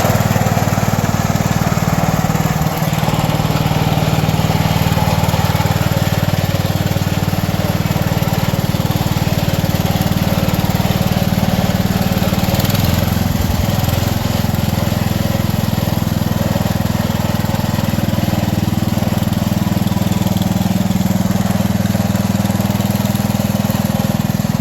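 A 1970s Montgomery Wards tractor with a Briggs and Stratton engine runs loud and close, a steady small-engine drone that holds nearly unchanged throughout, with brief rattles partway through.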